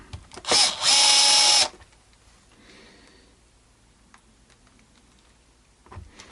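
A drill driver runs during a bass guitar setup. One short, loud whirring burst of about a second is followed by quiet handling and faint clicks.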